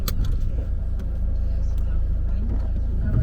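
Low rumbling engine of an automatic car pulling away, steady close drone inside the vehicle with a few knocks and clicks, and some background talk.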